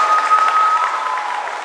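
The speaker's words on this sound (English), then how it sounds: "Give yourselves a round of applause." A crowd at a campaign rally applauds in a soft, smeared wash of clapping with a faint steady tone running through it, tapering off toward the end.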